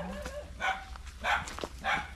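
A dog barks three times in steady spaced bursts at moderate distance, set in a rural home at the edge of a forest.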